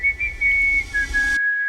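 Bright, tuneful whistled melody from a song, held as steady sustained notes over a low beat, ending abruptly in silence.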